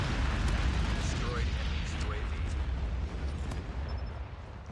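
A nuclear bomb goes off in Call of Duty on the Shipment 1944 map, a loud, sustained rumbling roar that fills the whole stretch and eases off only slightly toward the end.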